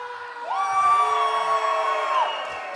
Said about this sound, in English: I heard some cheers go out there for Shawn Phoenix